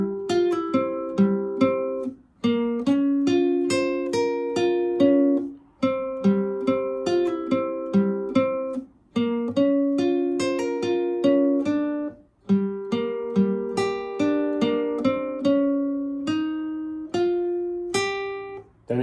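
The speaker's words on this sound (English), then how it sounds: "there's also a cool instrumental guitar part" An electric guitar picks the instrumental part of a song, a clear repeating arpeggiated pattern of plucked notes in steady rhythm with brief pauses between phrases, played alone without voices.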